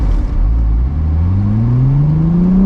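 A manual car's engine revs in first gear under a learner driver, the loud, close drone climbing steadily in pitch as the revs build without a change of gear.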